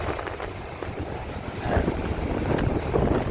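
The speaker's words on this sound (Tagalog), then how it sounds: "Malakas ang alon." Strong sea waves at Bagasbas beach, as heard from a boat, make a continuous rough roar of surf with heavy wind buffeting the microphone and swelling louder toward the end.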